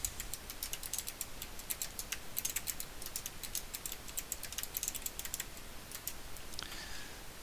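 Quick, steady typing on a computer keyboard fills the clip: dense runs of light plastic key clicks at close range, with no voices.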